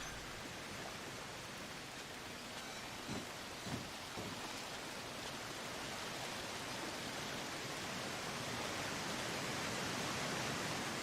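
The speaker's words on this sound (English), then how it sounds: "That's a waterfall there." A waterfall in the jungle survival game Green Hell roars as a steady, hissing wash of falling water, fairly faint and constant, with no voices over it.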